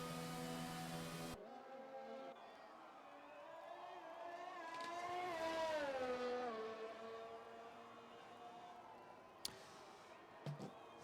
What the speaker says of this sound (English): Cars coming into the pit lane.